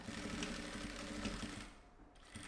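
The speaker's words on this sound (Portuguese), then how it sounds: "eu vou costurar esse pedaço e esse pedaço, só para não sair do lugar" A sewing machine runs steadily at close range, stitching two fabric pieces together for a double zippered pencil case, with a dense mechanical whir that dips briefly near the end and then resumes.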